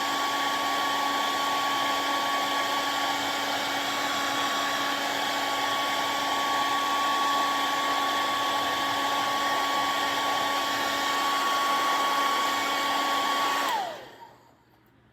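Compressed air or a blower is aimed at the hood of a 1971 Demon to clear off dust. It makes a loud, steady rushing hiss with a constant tone that runs unbroken for about fourteen seconds and then cuts off abruptly.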